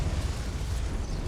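A Confringo blasting spell explosion in Hogwarts Legacy, a short, steady, roaring rumble with heavy low end, loud and close, with no talking.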